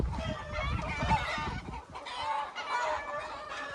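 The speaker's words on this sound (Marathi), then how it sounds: "सगळे कोंबड्या आहेत" Chickens at a village poultry farm in Maharashtra cluck and chatter continuously, several birds overlapping at moderate distance, with low background rumble and no talk.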